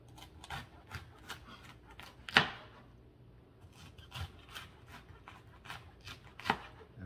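A knife cuts through a purple cauliflower on a board, with a run of soft rhythmic taps and two sharper, louder chops standing out, close and quiet with no one speaking.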